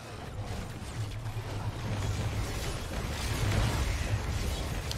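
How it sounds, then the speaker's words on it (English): A continuous rumbling wash of blasts as enemies die in chained explosions during Wolcen combat, swelling gradually louder toward the end with low booming thuds. "when one dies, everyone dies in explosion"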